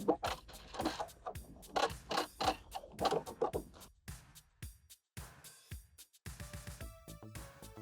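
A sewing machine back stitches on a jeans pocket in quiet, uneven bursts of stitching with brief pauses, ending in a short run of fast, regular needle clicks. No one speaks.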